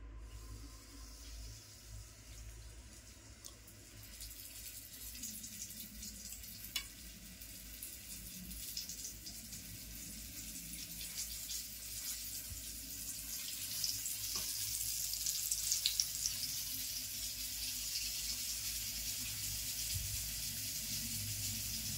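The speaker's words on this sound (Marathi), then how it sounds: "मासे तळून घेते." Flour-coated fish, bangda, tarli and mori, fry in a pan with a soft, steady sizzle that swells slightly toward the end, heard close and fairly faint with no talking.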